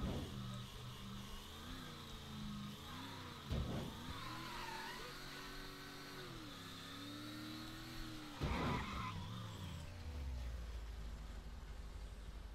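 A car in the Mafia III video game drives with a steady mid-pitched engine drone that rises and falls with revving, broken by two sharp bursts of tire skidding and squealing, loud and close.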